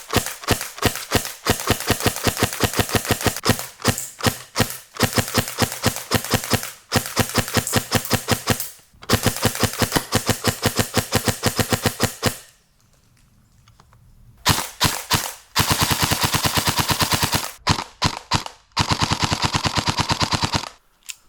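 Airsoft gun firing BBs through a smoke-effect silencer, sharp rapid shots in fast bursts and strings with short pauses between, loud and close.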